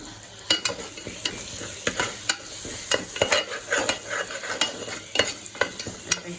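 Spices sautéing in a pot of salted one-pot rice, with a steady frying hiss and repeated sharp scrapes and knocks of a spoon stirring, fairly close and with no talking.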